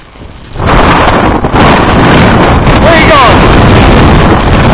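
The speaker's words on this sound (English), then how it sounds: "Pretty windy." Strong gusting wind roars across the microphone outdoors in a blizzard in Wichita Falls, Texas, a loud continuous buffeting rush, with a voice speaking briefly under it.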